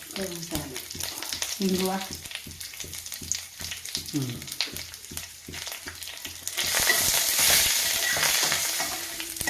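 Mustard seeds, fenugreek, cumin, chana dal and urad dal crackle and sizzle loudly in hot oil, with sharp popping bursts, then the hiss swells into a dense, continuous fry.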